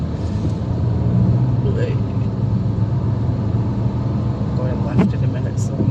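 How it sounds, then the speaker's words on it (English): Car engines idle in a traffic jam, making a steady low rumble throughout with a brief brighter sound near the end. A voice may be faintly present. "Traffic jam."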